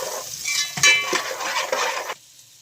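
Onion frying in a pan with garlic as it is stirred, a busy sizzle broken by scraping and clinking of a utensil against the pan, fairly close, ending abruptly in quiet.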